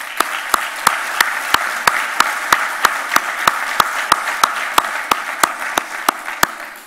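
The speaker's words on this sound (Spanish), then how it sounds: "Les pido que le brindemos un fuerte aplauso." Audience at a political panel discussion applauding its guests, a steady wash of many hands clapping with a sharp, regular clap cutting through at an even beat, sustained and fairly loud.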